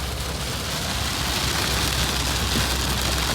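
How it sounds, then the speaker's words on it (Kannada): Heavy rain pours steadily on a road-trip stop in Karnataka, a dense, loud, unbroken hiss with no voices over it. "ಜೋರು ಮಳೆ ಹೊಡಿತಾ ಇದೆ"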